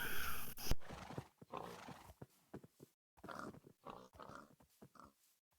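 Minecraft horses and pigs on a farm make short scattered calls, a whinny near the start followed by soft grunts and snorts with quiet gaps between.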